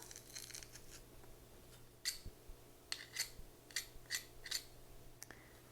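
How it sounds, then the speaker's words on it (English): Garlic is minced with a knife in a string of faint, sharp clicking taps against the board, roughly a dozen irregular strokes, quiet and close with no talk. "All right, I'm going to mince my garlic."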